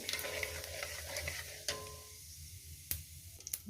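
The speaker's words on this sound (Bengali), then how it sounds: "জিরে ফোড়ন দিয়ে দিলাম কয়েক সেকেন্ড একটু ভেজে নেবো" Whole cumin seeds fry in hot oil for tempering, a faint, close sizzle broken by a few sharp clicks and scrapes of stirring, with no voices.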